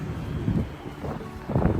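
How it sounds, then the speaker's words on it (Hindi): Gusty wind buffets the microphone outdoors near a metro station in Iran, low rumbling surges swelling and fading over a couple of seconds. "हवा ऐसे चल रही है कि भाई हाथ ना"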